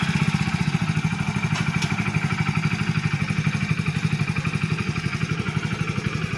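A motorcycle ridden by a student putters at moderate volume with an even, rapid pulsing engine beat that stays steady throughout.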